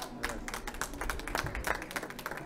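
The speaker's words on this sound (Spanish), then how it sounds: "un aplauso," A press-conference audience in Taxco gives a round of applause, dense overlapping claps that sound faint and somewhat distant.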